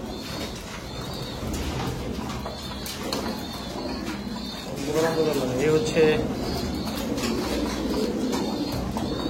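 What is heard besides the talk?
breeder pigeons cooing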